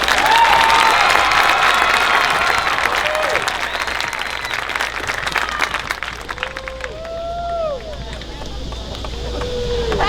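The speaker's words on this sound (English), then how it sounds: "Let's give our second row a round of applause." Graduation audience applauding, loud sustained clapping with a crowd murmur beneath and a few brief whistles or voices rising through it, continuing steadily for ten seconds.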